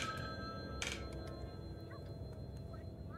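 A telephone rings inside a horror video game, faint electronic trilling over a steady dark ambient drone, with a sharp bright burst near the start and no talking.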